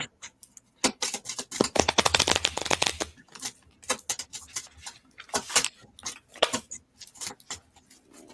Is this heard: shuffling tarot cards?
yes